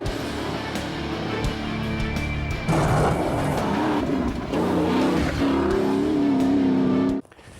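Bowler Wildcat, a high-performance off-road Land Rover, accelerates hard with a loud, steady engine roar that rises in pitch through the run, tyres scrabbling, before cutting off abruptly near the end.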